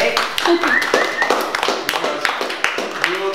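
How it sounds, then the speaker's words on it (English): People at a fitness studio's quarterly meeting clap for Sam with a short burst of scattered, close hand claps, while voices talk over it. "So can we clap for Sam?"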